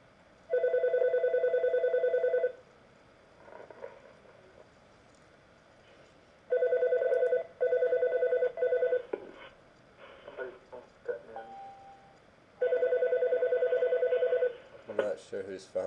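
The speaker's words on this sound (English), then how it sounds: "Not sure whose phone is ringing there." A telephone rings indoors, three repeated electronic ring bursts of about two seconds each, with someone talking quietly in the gaps between them.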